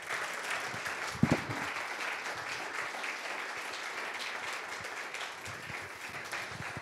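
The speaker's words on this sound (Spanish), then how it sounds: "Vamos a dar un aplauso grande al Señor," A church congregation applauds during a midweek sermon service, a dense, steady round of clapping held at moderate level with one sharper clap early on.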